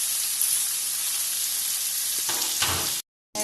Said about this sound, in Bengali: এখানে গাজর আছে, এখানে রসুন আছে, এখানে আদা আছে। আগে তো পেঁয়াজ দিয়েছিলাম, এখন এগুলোকে সবগুলো ভেজে নেব।